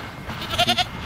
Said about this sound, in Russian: Тут козы.